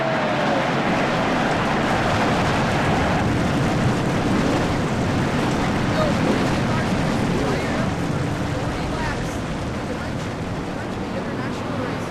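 Race car engines fire up together at Richmond in a racing video game, producing a loud, dense, steady roar that fills the whole stretch without a break.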